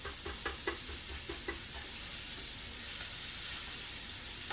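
Chorizo sausage sizzles in a pan as a steady broadband hiss, with a few soft knocks of stirring near the start, close and continuous without voices.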